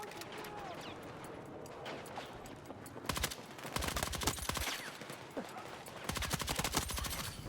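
Bursts of rapid MP5 submachine-gun fire in the video game Battlefield 6, loud close volleys alternating with distant battlefield gunfire and faint voices underneath.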